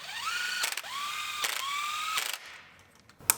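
A ratchet bolts down the ignition coils on a GM 2.4 engine: three short, rapid clicking bursts up close, separated by rising whirring tones, then a brief final click, with no talking.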